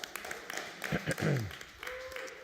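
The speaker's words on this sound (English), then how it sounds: "EO Jaguar, please give him a round of applause, another round of applause" A round of applause rises at a regular East Orange city council meeting. The clapping is fairly faint and distant, with a speaker talking over it.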